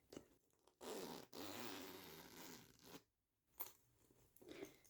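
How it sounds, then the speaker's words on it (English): A zipper on the last compartment of a toiletries bag is pulled open in one long, close, soft rasping stretch, then a pause and a few quieter rustles of the fabric. "So let's go ahead and unzip it."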